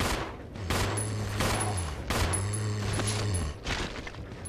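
Rapid bursts of Resident Evil Zero gunfire, loud and close, in two main volleys with mechanical clatter between them; no talking.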